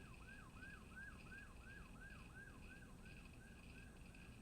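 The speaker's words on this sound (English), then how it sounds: "Listening to the sirens." A wailing siren sweeps up and down in a steady, rapid cycle, loud and continuous over a low rumble of traffic.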